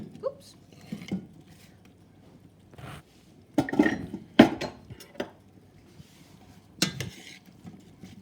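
Sliced apple being mixed in a pan for Kassler, with scattered clinks and scrapes of a utensil against the pan and a few louder knocks, close by, with quiet gaps between.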